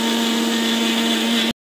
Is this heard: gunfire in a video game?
no